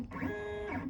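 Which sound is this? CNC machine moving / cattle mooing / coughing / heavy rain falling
CNC machine moving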